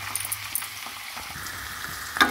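Onions frying in oil give a close, steady sizzle with a few light clinks and a short louder scrape at the end; no one talks.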